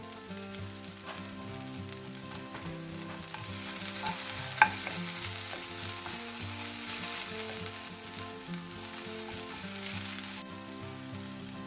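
Onions frying in butter in a pan for a steak sandwich, a steady close sizzle with occasional stirring scrapes and one sharp clink, no talking.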